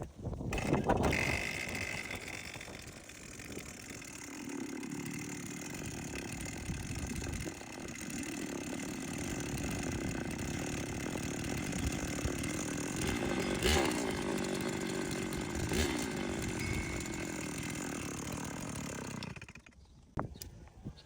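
A brush cutter engine with a suspected piston fault and broken side casing runs continuously at a high, rough, buzzing pitch with a rattling, uneven undertone, loud and close, then cuts off abruptly near the end.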